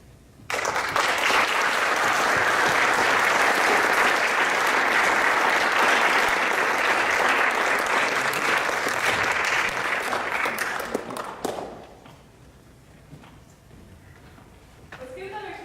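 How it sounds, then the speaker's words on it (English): Sustained audience applause fills a school auditorium at St. Paul Central after a talk by Col. Robert D. Cabana and Mark Lawrence, loud and dense for about eleven seconds before fading into quiet room noise with a brief voice at the end. "Let's give another huge round of applause for both Mr."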